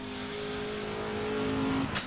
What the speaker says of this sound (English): we are in the 1966 version of the Ford GT, and we are racing against the 1967 version of the Ferrari E4